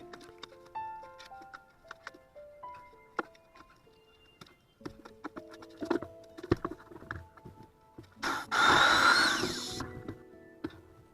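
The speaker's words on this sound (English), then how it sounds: "I use a 4-inch hole saw to cut through the foam and then the outer OSB." A loud burst of a 4-inch hole saw grinding through foam and outer OSB near the end, preceded by scattered clicks, taps and handling knocks.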